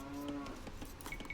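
A cow in the Age of Empires video game lets out a short, clear moo over faint game background sound.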